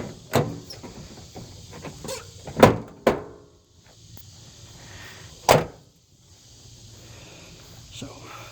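A 1975 Ford F100 truck door shutting with a slight popping, giving several sharp, close thuds and clicks separated by quiet gaps.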